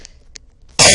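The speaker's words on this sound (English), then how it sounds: "Cough." One short, loud throat-clearing cough bursts out at the very end after near silence, close and abrupt.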